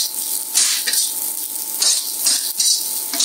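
Slivered ginger sizzling steadily in a hot pan for nasi goreng, with a constant bright hiss and occasional louder bursts as it is stirred, no voices.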